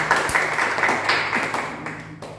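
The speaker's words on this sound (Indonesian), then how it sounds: "Tepuk tangan bagi Tuhan." A church congregation claps hands together during a sermon, producing brief irregular claps with a low hum underneath that fade over a couple of seconds.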